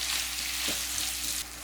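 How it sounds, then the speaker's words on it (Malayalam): Thinly sliced medium onions sauté in a pan for a biryani, giving a short, steady, close sizzle with a faint stir partway through. "മീഡിയം സൈസിലുള്ള 4 സവാള നീളത്തിൽ കനം കുറച്ച് മുറിച്ചതും കൂടി നമുക്കിതിലേക്ക് ചേർത്ത് കൊടുക്കാം."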